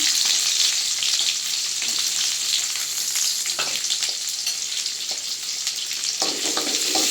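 Onions sizzle and fry in hot oil with cinnamon and cloves in a kadai for Tamil mutton kulambu, a steady close crackling hiss with occasional stirring scrapes and no voices.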